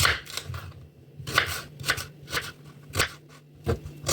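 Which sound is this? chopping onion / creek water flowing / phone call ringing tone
chopping onion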